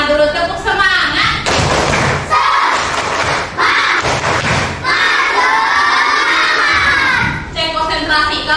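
Schoolchildren in a classroom clap loudly and chant a rhythmic class cheer together, with shouting voices and sharp thumping claps in bursts.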